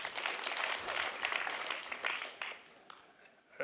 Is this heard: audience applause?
yes